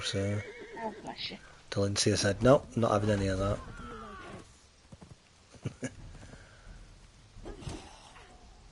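A horse neighs and whinnies in the video game Conan Exiles, loud and close, with hoof clip-clops, while a player talks over and around it.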